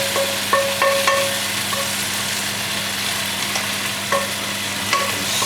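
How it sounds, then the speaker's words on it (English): Chicken and its marinade sizzle steadily in a hot pan on full heat, a continuous crackling hiss broken by a few sharp clinks of stirring, close and alone without talk. "Sizzle away merrily."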